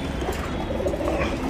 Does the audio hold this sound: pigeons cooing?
yes